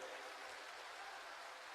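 Crowd applause welcoming the Mahant Peethadhishwar of Tharet Math at a Dhirendra Shastri religious gathering in Patna, a dense steady wash of many hands clapping throughout, faint and distant.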